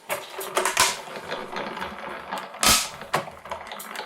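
A Tonic Studios die-cutting machine feeding taped-down card through its rollers, a close mechanical whirring and grinding with a few sharper clunks, heard alone without talk.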